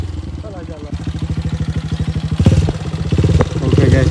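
A tall motorcycle rumbles along a damaged, wet and muddy rural road in Indonesia, its engine pulsing in a steady rhythmic throb with clattering jolts as it rides, close and fairly loud.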